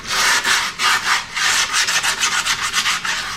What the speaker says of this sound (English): Give her a good old sand down. Along the edges, like I always do.